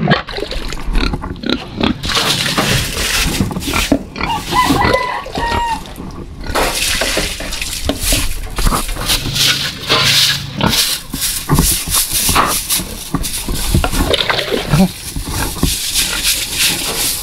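Pig grunting and squealing in its pen during washing, mixed with splashing water and a continuous wet, noisy background, with voices at times.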